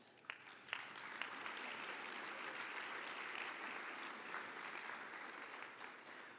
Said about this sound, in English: We want to give you some applause.